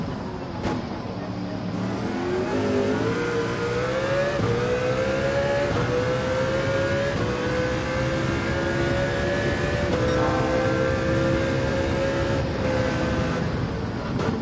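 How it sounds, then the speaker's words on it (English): A gasoline race car engine, not a hybrid, drones steadily in Gran Turismo 7, the CLK LM's tone rising smoothly then holding a high, sustained whine as it runs flat out, loud and continuous. "a gas, fossil fuel engine. It's not a hybrid."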